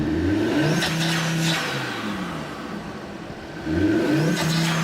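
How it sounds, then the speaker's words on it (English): An Audi RS3 (8Y) engine with a blow-off valve revs up and drops off repeatedly, with a whooshing release as the throttle closes between pulls. "I never thought in a million years I would like the way a blow-off valve sounds"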